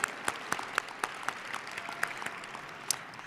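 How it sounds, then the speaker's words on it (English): Sparse audience applause for a children's performance at a city Black History program, scattered individual claps ringing out across the room at moderate distance, with no voices over it. "Let's give those kiddos another round of applause."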